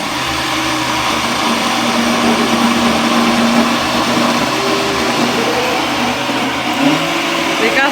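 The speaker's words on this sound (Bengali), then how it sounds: "অনেকক্ষণ লাগে ব্লেন্ডার করতে" A small electric blender whirs steadily at close range with a constant motor drone and a slight pitch shift near the end, while someone talks faintly in the background.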